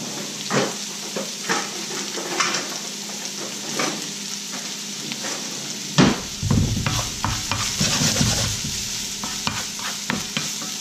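Green bell pepper sautéing in a small pan while being stirred, a steady close sizzle with scraping stir strokes throughout, growing louder and busier after a spoon clatters in about midway.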